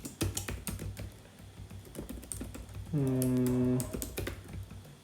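Typing clatters on a computer keyboard in irregular bursts of close, soft clicks, with a brief hummed murmur and a short tonal beep partway through.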